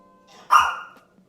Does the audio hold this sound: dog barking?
yes